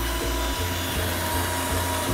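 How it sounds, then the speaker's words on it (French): A power drill bores into a plasterboard wall to take a metal expansion anchor, a steady loud whirring drone running continuously throughout, close up and alone. "On y va en perce."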